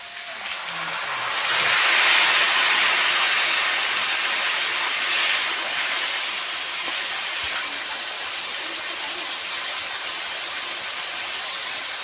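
Spice paste of dried red chilli, ginger, cumin, turmeric and salt drops into a hot kadai and hisses loudly, the sizzle swelling quickly and then settling into a steady fry.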